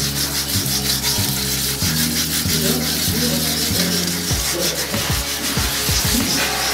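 A car wheel rim is hand-sanded with sandpaper by students in one direction, giving continuous close, loud rasping strokes in an even rhythm, with no talking.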